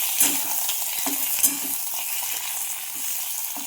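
Black cumin seeds and green chilies frying as tempering for a mustard-flat-bean dish, giving a loud, continuous close sizzle with soft crackles and repeated stirring scrapes throughout.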